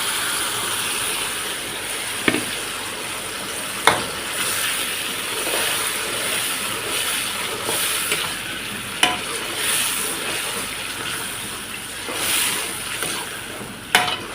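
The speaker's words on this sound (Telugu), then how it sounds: "ఇప్పుడు మిక్సీ పట్టుకున్న ఈ పేస్ట్ని అయితే అన్ని రకాల పేస్ట్ని అయితే వేసుకుంటున్నానండి." Ground masala paste of mixed ingredients fries in a pan with a steady sizzle while a spoon scrapes and stirs it, giving sharp clacks every few seconds. Nobody speaks.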